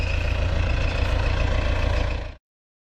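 A John Deere 5080 tractor engine runs at a steady, loud, low rumble up close, then cuts off abruptly into silence.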